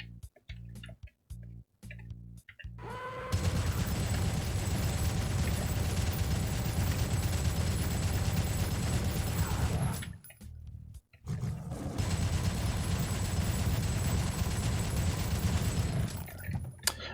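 Chaingunner enemies in Doom firing chainguns: two long, continuous, loud stretches of rapid gunfire, each several seconds long, separated by a brief gap, after a few short isolated bursts at the start.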